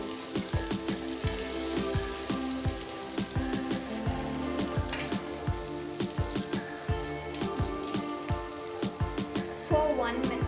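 Onions, cashews and capsicum frying in a pan for a chicken masala, with a steady crackling sizzle and repeated spoon strokes and knocks against the pan throughout, close by.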